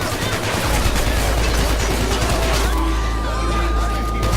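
Rapid AK rifle fire from the video game Hatred rattles loudly and continuously in dense bursts throughout, close and overpowering.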